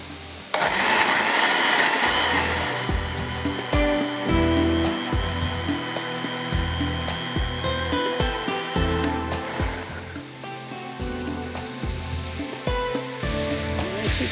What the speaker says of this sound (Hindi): अच्छा जी, इसको पीसते हैं कितनी देर में,